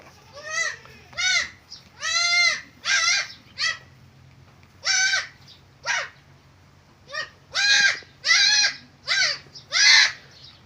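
Newborn goat kids and their mother on a farm bleat repeatedly in loud, close, wavering calls, about a dozen cries spaced irregularly over a low background hum.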